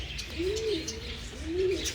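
A female racing pigeon coos twice nearby after returning home during a village pigeon-flying competition in Punjab, soft low rising calls separated by a short pause over faint background hum.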